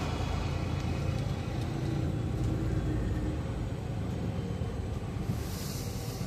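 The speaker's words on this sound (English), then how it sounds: "Yes, I'm driving a semi." A semi truck's engine rumbles steadily from inside the cab as it pulls out of a truck stop in North Platte, Nebraska, a loud, continuous low drone with no voices.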